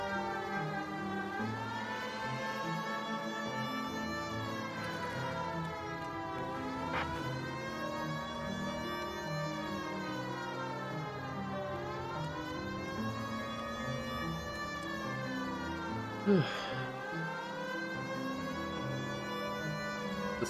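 A police car siren wails continuously in the L.A. Noire video game, rising and falling in a steady cycle, loud and close, with faint engine noise beneath it.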